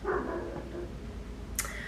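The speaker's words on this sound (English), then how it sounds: "Sorry about the neighbor's dogs again." A neighbor's dogs let out a brief bark or yip, faint and somewhat distant, followed by a second sharper bark near the end.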